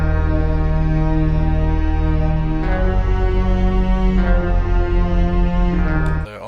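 Deep synth bass from the Scorch plugin in a trap/drill beat, following the root notes with sustained loud low tones that shift pitch every couple of seconds, with no talk.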